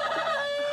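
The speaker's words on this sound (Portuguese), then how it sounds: "Dona Nelly tem uma galinha. Ela fez o ninho nesse chifre de viado aqui" A farm chicken gives a short, tonal clucking call, close and clear, with no talk.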